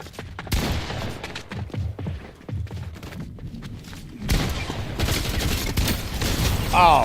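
Shotgun blasts in a Fortnite Zero Build ranked match, with a few sharp, heavy shots early on, then a rougher, denser stretch of game noise, while a voice talks over part of it.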